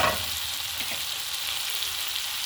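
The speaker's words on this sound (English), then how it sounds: "as our tomatoes continue frying" Tomatoes fry in a pan with a steady, close sizzle and crackle that continues evenly throughout, with no voice over it.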